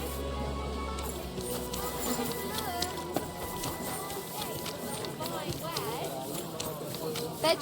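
Horse hooves run and clop in Kingdom Come: Deliverance II in a busy market setting. The rhythmic footfalls sit under almost constant chatter and vendor voices, with scattered clicks and clatter.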